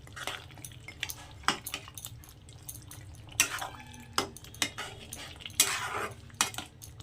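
A spoon scrapes and clinks against a pot while chicken kalia curry is mixed with ground garam masala, giving close, soft, irregular stirring sounds over a low steady hum.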